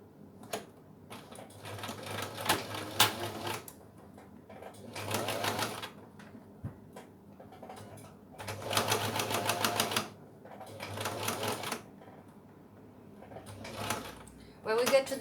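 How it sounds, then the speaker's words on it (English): A sewing machine stitches along a zip on a padded cosmetic bag in several bursts of rapid mechanical chatter, separated by short pauses and handling clicks. "I'm going to sew along this edge."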